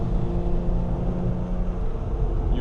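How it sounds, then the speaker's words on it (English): A Lotus Emira V6 engine rumbles and revs continuously at close range, a deep steady drone with no voices over it. "Nice free revving engine."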